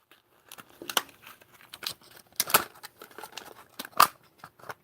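Plastic packaging on an impact bit set is sliced open, with irregular sharp cuts, crinkles and rips in quick close bursts between short pauses.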